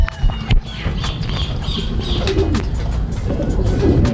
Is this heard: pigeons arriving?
yes